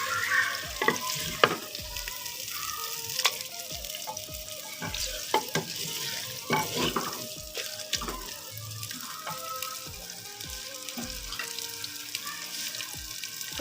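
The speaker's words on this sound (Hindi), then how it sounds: "गाजर क्योंकि थोड़ी सख्त होती है, जल्दी नहीं गलती। थोड़ी देर के लिए हम पहले इसको भून लेंगे।" Carrots are stir-fried in a pan for a dhaba-style mixed vegetable dish, with a steady sizzle broken by repeated scraping and clattering of a spatula against the pan, close and continuous.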